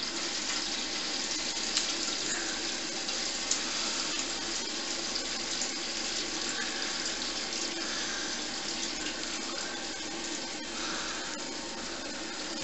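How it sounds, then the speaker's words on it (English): Mash liquid runs steadily from a tap into a brewing boiler during an all-grain home brew, a continuous close splashing trickle lasting throughout with no talk. "I'm going to empty that lot into the boiler."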